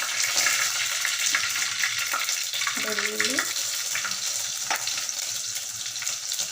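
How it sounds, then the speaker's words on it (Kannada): Cumin and mustard seeds crackling and sizzling in hot oil for tomato rasam, a dense steady frying hiss with small pops, a brief clink of a utensil partway through. "ಎಣ್ಣೆನ ಕಾಯಕ್ಕೆ ಇಟ್ಟಿದ್ದೀನಿ. ಜೀರಿಗೆ, ಸಾಸಿವೆನ ಹಾಕ್ಕೊಳ್ಳೋಣ."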